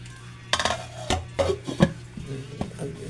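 Dishes and pots, including a rice cooker pot, being washed by hand: close, irregular clinks, knocks and clatters between short pauses, with no voices.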